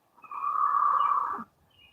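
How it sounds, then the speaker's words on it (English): A hawk calls once outdoors in Hawaii, a single harsh drawn-out cry lasting about a second, moderately close with no talk over it. "Y'all hear that hawk?"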